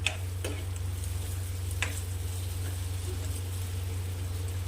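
Okra (bhindi) frying in oil in a pan on low heat gives a steady, fairly soft sizzle over a constant low hum, broken by a few sharp ticks from stirring.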